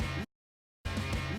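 Original guitar sample sounding as two short, dense hits split by a silent gap, each about a quarter to half second long, loud and up close with no talking.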